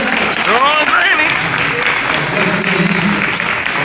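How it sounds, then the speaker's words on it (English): An audience at a Jackson, Michigan mayoral debate applauds the moderators, with steady, loud clapping running throughout while someone speaks over it. "Also want to applaud our moderators, Sean Rainey."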